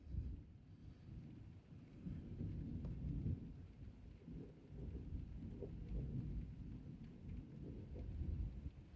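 A severe thunderstorm with heavy rain setting in, low rolling thunder rumbling continuously beneath steady rainfall, heard from indoors behind a door, no voices.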